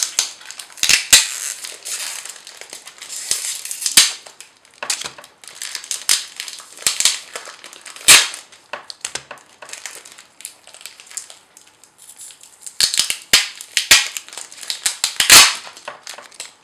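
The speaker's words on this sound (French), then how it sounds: "les 3 boosters que je vais m'empresser de détacher du scotch" Three Pokémon Explosion Plasma booster packs being pulled off sticky tape, sharp crackling rips and crinkles in irregular loud bursts, close up and alone without talk.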